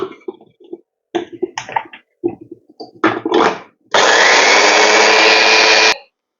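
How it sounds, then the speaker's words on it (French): A small food processor chops damp tansy leaves in a loud, steady whir lasting about two seconds, which stops abruptly, after a few short clatters and bumps of handling. "vous pouvez la placer dans le petit robot pour hacher"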